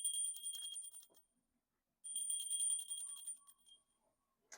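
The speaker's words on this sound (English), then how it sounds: "we use a bell to cleanse the energy" A pewter bell rings in two bright bursts, each with sustained high metallic tones that fade, separated by a short silence, used for energy cleansing in a quiet indoor setting.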